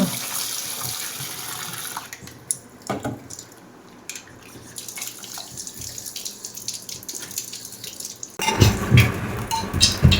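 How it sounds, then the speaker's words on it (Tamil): Ivy gourds rinsed under a running kitchen tap, a steady stream of water splashing into a sink with a louder, fuller rush of water near the end. "கோவக்காய் வந்து கொஞ்சம் கலர் கழுவிக்கலாம்"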